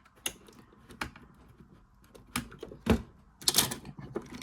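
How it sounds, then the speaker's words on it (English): A screwdriver backs out the small screws holding the motor box on a Bachmann Dusseldorf model tram, making sparse, quiet, close-up clicks and scrapes that come in irregular bursts. "We'll take off the 4 screws holding the motor box in."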